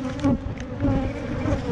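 Honey bees buzz in a close, continuous drone during a honey harvest, swelling and fading slightly as individual bees pass near.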